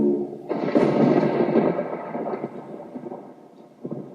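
A thunder sound effect in a radio jingle: a deep rumbling crack hits suddenly, rolls for a couple of seconds, then slowly fades into a faint grumble with a smaller rumble near the end, and no voice over it.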